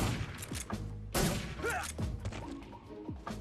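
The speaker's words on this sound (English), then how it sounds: "they don't hear those loud as hell gunshots either" Gunfire in the stealth video game Metal Gear Solid 3: several loud, sharp shots and heavy thuds scattered over a few seconds, with game sounds between them and no speech.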